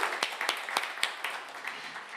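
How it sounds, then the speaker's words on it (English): A live radio show audience applauds, scattered hand claps forming a modest round of clapping that continues steadily and close. "How about we get one more round of applause for Elizabeth Wise"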